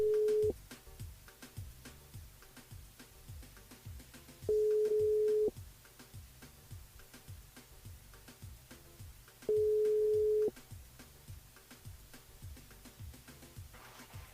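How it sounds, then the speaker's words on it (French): A telephone line rings out on a live radio phone-in as a listener is called: three long, even beeps spaced about five seconds apart over a quiet background hum. "on appelle Denise du côté du port"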